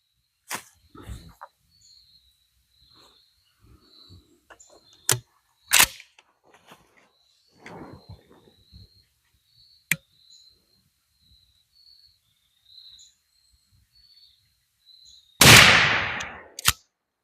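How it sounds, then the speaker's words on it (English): Five loud, sharp blasts from a 12-gauge shotgun firing Remington Express 00 buckshot, spaced unevenly with one crack near the start and a heavier boom at the end, outdoors with faint insect chirping underneath. "We have our Remington Express double-aught buckshot, and we're going to shoot a 5-shot group at the target down there."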